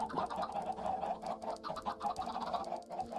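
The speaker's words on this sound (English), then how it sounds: "There's a lot of chicken happening here." Chickens in the Minecraft video game cluck in quick, repeated bursts, fairly quiet and continuous with no talk over them.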